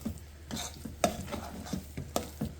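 Jaggery melting in a pot on a stove over low heat, stirred now and then: faint, quiet scrapes and soft knocks come every half second or so over a low hum, with no one speaking.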